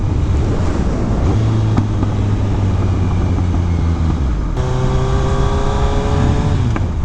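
A 2018 Kawasaki Ninja 1000 is ridden with steady engine drone and heavy wind rush, the pitch shifting as it changes gear, with faint pops between second and third, close and loud.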